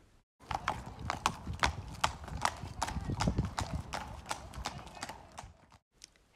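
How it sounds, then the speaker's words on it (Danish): A horse being shown and led at a Danish stallion licensing event trots away on a hard surface, its hooves clip-clopping in a steady rapid rhythm that fades toward the end, with a brief whinny and some faint talk. "Herefter løber hest og mønstre ud af den vej, de kom ind."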